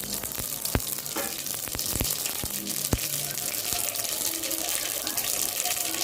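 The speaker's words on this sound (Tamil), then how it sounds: "ரசம் கொஞ்சம் எண்ணெய் கடுகு போட்டேன்." Mustard seeds frying in hot oil for rasam: a steady loud sizzle with scattered sharp pops and crackles throughout, close by in a home kitchen.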